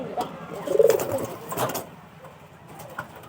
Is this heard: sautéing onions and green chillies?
no